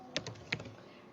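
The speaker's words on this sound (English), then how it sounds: "so we only have to type localhost" Two quick keystrokes on a computer keyboard, close and faint in a quiet room.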